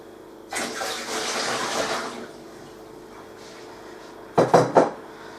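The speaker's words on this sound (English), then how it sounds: "just going to drain off the water." Water is poured off from a jug while making soap, a close splashing gush lasting over a second, then quiet before a few short knocks and clatters of the container near the end.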